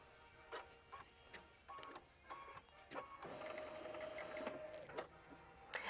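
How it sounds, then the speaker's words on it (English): An embroidery machine sews a clean line of machine stitching across the bottom of a sampler quilt block, giving a steady mechanical hum broken by bursts of rapid needle clatter and brief pauses, close and fairly quiet with no talk. "we're going to do machine stitch step 12. And it's just going to sew a nice clean line right across the bottom."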